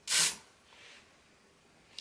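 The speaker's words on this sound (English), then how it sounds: "It's like a little room spray, and this smells so good." A single short hiss of an apple and cinnamon room spray being pumped nearby, a sharp burst followed by a faint lingering mist and a small click at the end.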